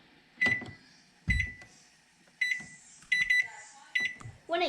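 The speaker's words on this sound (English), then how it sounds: "You want to set a 3-minute timer." A kitchen timer being set to three minutes while cooking ramen on a stove: a series of short, close electronic beeps, spaced irregularly as the buttons are pressed, with faint handling noise between them.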